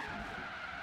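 Race car in Forza Horizon 3 on the Goliath Circuit braking hard, tires skidding in a short, loud, continuous squeal over the engine, with no talk.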